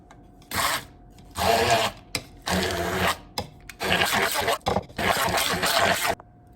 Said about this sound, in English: So, now I wanna blend it.